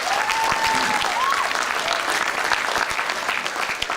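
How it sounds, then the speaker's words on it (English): An audience at a retro gaming expo auction applauds steadily for several seconds, a dense and fairly loud clatter of clapping, with a voice briefly heard. "I love the applause."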